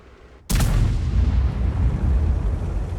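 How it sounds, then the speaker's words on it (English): A single heavy tank gun shot firing a standard round in World of Tanks booms sharply and loudly, then rolls into a long, dense rumbling decay that fills the rest of the moment. "And he's firing his standard rounds here, just to not waste any credits."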